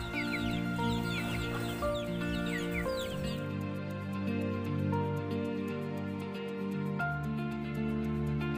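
Several chickens cluck and squawk close by, a busy overlapping chorus of farmyard fowl with occasional louder calls.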